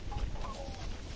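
Chickens cluck on a rural farm by a river, with brief soft clucks over steady outdoor noise across a short moment.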